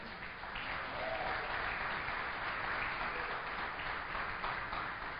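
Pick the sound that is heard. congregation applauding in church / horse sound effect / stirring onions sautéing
congregation applauding in church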